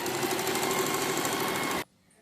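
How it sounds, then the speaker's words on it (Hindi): Electric sewing machine stitching a dhoti salwar, a rapid, even mechanical whir running steadily for nearly two seconds before stopping abruptly into quiet. "अब मैं आपको सिल के दिखाती हूँ किस तरह से सिलाई करना है।"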